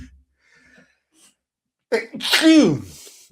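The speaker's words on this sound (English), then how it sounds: "Just like my sneeze just now." After a quiet pause, one loud, close sneeze with a sharp inhale bursts out and trails off into a drawn-out vocal release.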